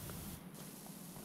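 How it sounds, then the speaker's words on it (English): A super strong water spray nozzle in a video game blasts a loud, continuous rushing hiss, with a short dip in the highs partway through before the spray resumes at full force. "that's the like epic it's like super strong spray nozzle"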